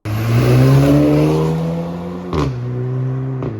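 An Audi S5 engine revs loudly and close by, rising and holding steady before two sharp shifts or blips that break the sustained roar.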